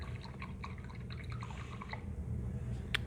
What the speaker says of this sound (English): So I'm gonna rinse that out.